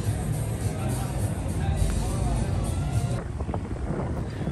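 Wind gusting across an open stretch of Miami Beach on a cold, blustery day, a steady broadband rush buffeting the microphone that eases slightly toward the end.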